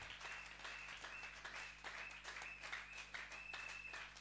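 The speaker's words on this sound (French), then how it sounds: "Acclamez pour la gloire de Jésus-Christ" A church congregation applauding during a Sunday sermon service, a steady, moderately distant wash of many clapping hands sustained throughout, with a faint constant hum beneath.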